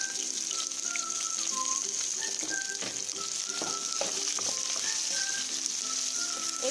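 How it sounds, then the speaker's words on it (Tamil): Onion hitting hot oil already spluttering with mustard seeds, urad and chana dal, giving a steady close sizzle with scattered pops and crackles and no talking. "இப்போது வெங்காயத்தை போட்டு தாளிச்சிடலாம்."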